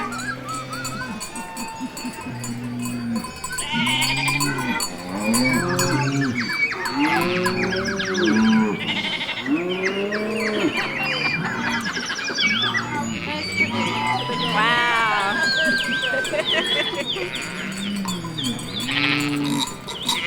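Children in a Christmas pageant imitate sheep, cows, goats and other farm animals, a dense chorus of loud overlapping bleats and moos rising and falling continuously, with some talk mixed in.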